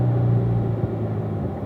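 A Corvette's engine rumbles steadily on a race track, a low, even drone heard close for a moment with no voices over it.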